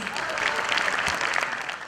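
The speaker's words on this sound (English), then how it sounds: "A big round of claps for them again, please." Audience applause at a school annual day: sustained, dense clapping from a crowd filling the whole moment, steady and fairly loud with no talk over it.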